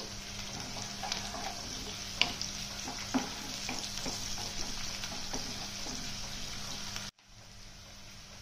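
Curry leaves and onions fry in hot oil, a steady, close sizzle with scattered spits and stirring scrapes, before it cuts abruptly to a quieter hiss near the end.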